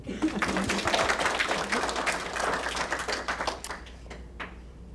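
Scattered audience applause for Jacob Mead at a summer mentoring program event, moderately loud at first, then thinning and fading out over a few seconds.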